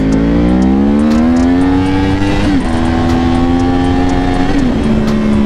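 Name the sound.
Yamaha R1 motorcycle accelerating for a second gear wheelie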